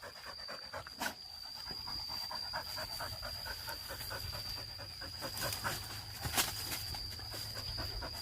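A male Thai Ridgeback dog pants softly and steadily in a fast rhythm, faint against outdoor background noise, with a couple of brief sharp knocks.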